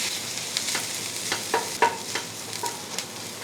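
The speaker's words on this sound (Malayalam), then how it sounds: "സവാള ഒന്ന് വഴറ്റി കൊടുക്കാം." Chopped onions sauté in hot coconut oil for a mushroom roast, a steady close sizzle broken by sharp spatula scrapes and taps against the pan.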